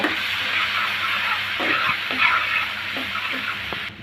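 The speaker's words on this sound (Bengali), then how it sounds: "সামান্য একটু লবণ দিয়ে ভালো করে নেড়ে চেড়ে মিশে নেব" Spices and salt being stirred into red amaranth greens for a pickle in a hot pan, with a continuous close sizzle broken by several soft scraping stir strokes.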